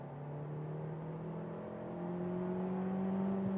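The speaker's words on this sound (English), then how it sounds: "let's see that we can do a first very quick acceleration, like 70 to 120" A 2027 Kia Seltos compact SUV with a combustion engine accelerates hard in sport mode from about 70 on the Autobahn, a steady rising engine drone that slowly climbs in pitch and grows a little louder inside the cabin.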